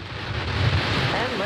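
SpaceX Starlink rocket engines igniting at launch, heard as a steady broad rushing roar that swells slightly, with no clear voice over it.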